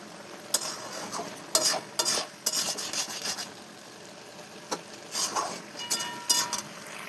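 Fried lentil dumplings (bori) are stirred into a spinach curry in a pan, making short bursts of spatula scraping and rubbing separated by quiet pauses, over a faint simmer.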